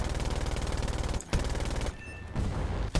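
Machine-gun fire from a German He-112 B1/U2 fighter plane in the air-combat game War Thunder, fast loud regular bursts of close shots, broken by two brief pauses and a quieter stretch of engine drone.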